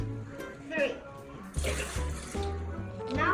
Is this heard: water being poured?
yes